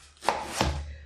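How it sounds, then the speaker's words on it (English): Two crisp knife strokes finely slicing leek on a cutting board, close and clear with a soft thud on each cut and nothing else around them. "now we want to finely slice"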